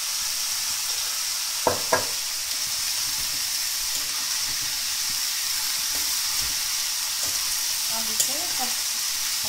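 Bottle gourd sabzi sizzles steadily in a hot pan, a constant loud frying hiss broken by a few soft scrapes and knocks of stirring, close and without voices.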